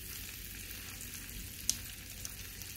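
Hot dogs frying in a pan, a faint steady sizzle and crackle throughout with a couple of small pops, no talking.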